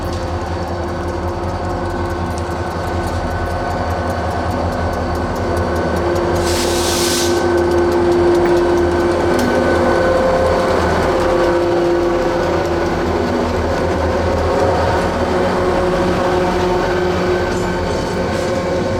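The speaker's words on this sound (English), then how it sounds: "SD40T-2 tunnel motors still painted in Rio Grande paint." Wheeling and Lake Erie freight train 431 rolls past with a pair of SD40T-2 tunnel motors in Rio Grande paint hauling 55 gondolas, a loud, sustained rumble with droning engine tones and a brief horn-like burst midway.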